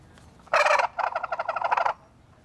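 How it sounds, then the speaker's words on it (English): Wild turkeys gobbling in answer to a crow call, one burst followed by a second longer rattling gobble, fairly close and clear with no talk. "I hit this and you can hear them gobble"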